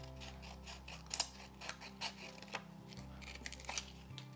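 Scissors snip a thin foil sheet in a series of short, crisp cuts, irregularly spaced, close and fairly quiet with a faint background hum.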